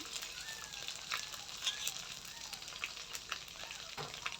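Cumin paste hits oil in a home frying pan and sizzles in a steady, fine hiss with small crackles, faint and even throughout.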